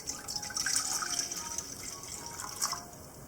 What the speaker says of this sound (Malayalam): ഒരു സോസ് പാനിലേക്ക് നമുക്ക് 2 കപ്പ് വെള്ളം ചേർക്കാം